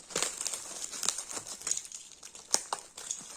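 Crinkling plastic wrapping and cellophane rustle close by as a postal parcel holding shoes is opened, with irregular crackles and a few sharper tearing bursts throughout.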